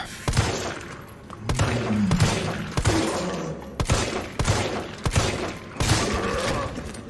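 Gunfire in the Resident Evil 3 game demo: about eight sharp, loud shots fired at irregular intervals, each with a short reverberant tail over faint background ambience.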